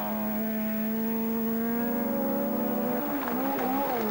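A rally car at the 1982 Welsh Rally Sprint climbs a hill stage near 4 Counties corner, its engine holding a steady loud drone before shifting and revving unevenly toward the end, with no voices.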